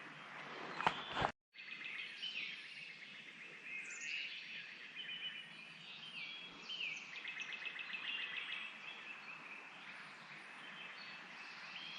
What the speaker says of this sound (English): There's a lot of birds gobbling